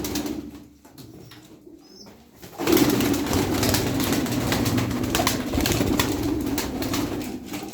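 Aksaray play pigeons coo in a loft, a soft murmuring chorus that swells after a quieter start and continues steadily amid light rustling.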